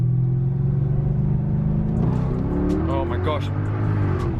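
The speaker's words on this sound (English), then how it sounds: "Get the window down so you can hear better." A classic Mercedes 550 with all-wheel drive revs and accelerates hard, a steady low engine rumble rising in pitch, heard from inside the car with the window down while people talk and exclaim over it.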